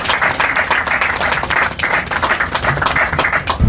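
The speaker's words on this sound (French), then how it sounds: "sous vos applaudissements, s'il vous plaît." An audience at the FEMOGA festival claps loudly and continuously, a dense wash of many hands close by with steady rhythmic bursts and no voices rising above it.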